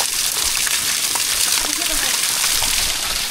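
Water rushing over a small waterfall under a bridge, a steady close splashing and gushing flow with voices talking over it.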